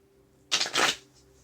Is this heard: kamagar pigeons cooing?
no